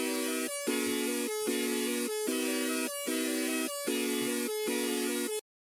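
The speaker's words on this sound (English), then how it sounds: "I went back into Serum and I grabbed this synth out of a Florency kit." A layered synth from a Florency kit played in Serum sounds bright and buzzy in repeated short chord stabs, a steady rhythmic pattern of evenly spaced hits, loud and alone, cutting off abruptly at the end.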